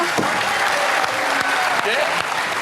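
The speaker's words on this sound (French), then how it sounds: "vous pouvez l'applaudir quand même" A television variety show audience breaks into dense, sustained applause that fills the whole stretch at a steady loud level, with faint voices beneath it.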